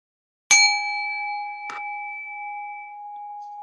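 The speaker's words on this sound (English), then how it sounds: "I'm going to go ahead and ring the bell and we'll begin" Meditation bell struck once, a clear ringing tone that sustains and slowly fades, with a soft second touch about a second later adding a brief shimmer; quiet room, no talk.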